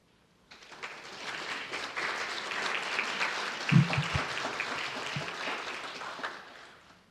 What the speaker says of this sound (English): Will all scouts please join me in a round of applause to thank your parents and all those who support our scouting program.